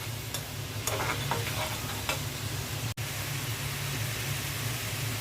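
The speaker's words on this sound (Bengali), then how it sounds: "মশলাটা ভালো করে কষিয়ে নিব।" Fish curry spice paste fries in a pan with a continuous hissing sizzle, punctuated by a few light scrapes from stirring and one brief dropout, with no one speaking.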